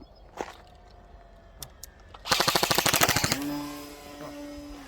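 Rapid burst of about a dozen airsoft gun shots strikes a 3D printed RC car, a loud, evenly spaced rattling volley that stops abruptly; quieter scattered clicks come before it and a steady tone follows.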